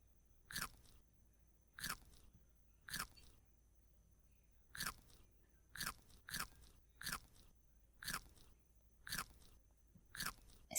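A cartoonish chomp effect in a desktop pet fish video game, about ten short crunchy bites repeating at irregular intervals over near-silence.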